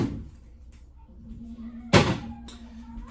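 A household fridge door is opened and then shut, a soft thud early on and a sharper close with a brief rattle near the end over a low steady refrigerator hum.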